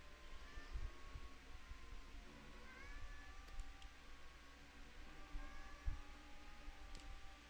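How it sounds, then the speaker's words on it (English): A cat meows faintly a few times in the background, thin rising cries over a steady low hum. "I apologize if you can hear my cat meowing at me in the background."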